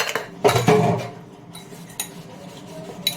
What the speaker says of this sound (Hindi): बर्तन फटाफट मांजती हूँ।